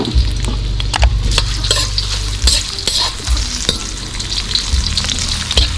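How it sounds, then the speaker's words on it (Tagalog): Ginger sautéed in a pan just used to fry red snapper gives a steady, close sizzle and hiss, with the scrape and clack of a spatula stirring now and then and no voices. "Igigisa na natin. So unahin muna natin ang luya para hindi malansa ang ating mga isda."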